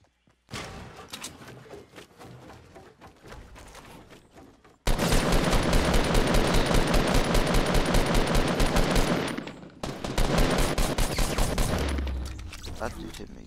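Rapid gunfire in the Fortnite video game, with a quieter stretch of shots giving way to sustained, loud bursts and fusillades. A brief pause comes before the heavy firing resumes, and a player's voice talks under the shooting.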